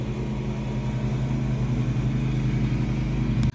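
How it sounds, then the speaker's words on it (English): A lawnmower runs outside mulching leaves, its steady engine drone continuous and fairly loud before cutting off abruptly at the end. "it is my mother outside mulching leaves on the lawnmower"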